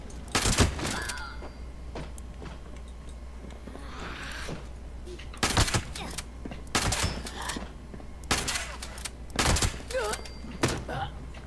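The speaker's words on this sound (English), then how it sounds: "Is that you shooting?" Shotgun fire in Fallout 76, several sharp separate blasts spaced a few seconds apart over steady game ambience, at moderate loudness.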